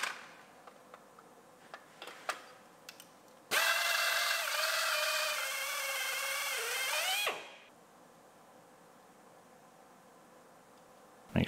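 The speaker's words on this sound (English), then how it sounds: "first we're going to drill a hole for the license plate light." A drill bores a hole in the steel body of a wrecked dump trailer, cutting a mounting hole for a license plate light. One loud, steady whine runs about four seconds, its pitch sagging and rising as the bit bites, with light clicks before it.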